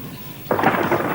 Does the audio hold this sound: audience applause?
no